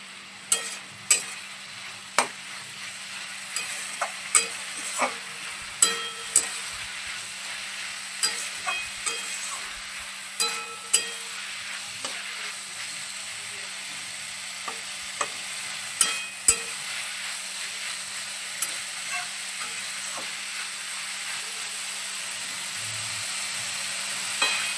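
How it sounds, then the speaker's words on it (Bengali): Vegetables and pasta ingredients with a splash of vinegar being stirred in a frying pan, a continuous sizzle punctuated by repeated sharp scrapes and clinks of the spatula, close and fairly loud. "এবারে সমস্ত উপকরণগুলো খুব ভালোভাবে মিশিয়ে নেব।"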